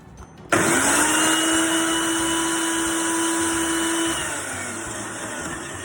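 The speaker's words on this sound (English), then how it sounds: "I'm actually going to pop the coconut sugar in a blender to blend, just to make it as a really fine sugar" A blender starts abruptly and grinds coconut sugar into a fine powder with a loud, steady motor whir, running for several seconds before its pitch drops as it winds down, with no talking.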